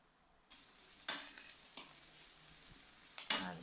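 Onion and ginger drop into hot oil in a pan, a sizzle that starts abruptly and flares in several bursts as more pieces are added and stirred, close and fairly quiet.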